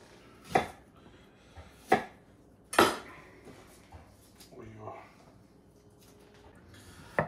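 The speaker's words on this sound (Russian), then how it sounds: "Цукини нарезаем вот такими треугольничками." A knife chops zucchini into triangles on a board: three crisp, well-spaced chops ring out clearly, followed by softer cutting taps in a quiet kitchen.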